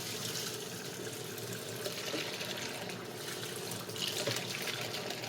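Water runs steadily into the drum of a Panasonic 7 kg top-load automatic washing machine as it fills, a continuous close rushing splash with no voices.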